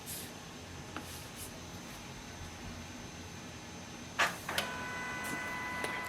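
A Canon imageCLASS LBP633Cdw laser printer wakes up and starts printing, heard as a faint, steady mechanical hum with soft clicks and a clearer clunk of feed movement partway through.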